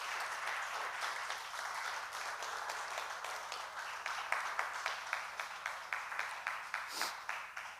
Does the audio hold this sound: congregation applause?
yes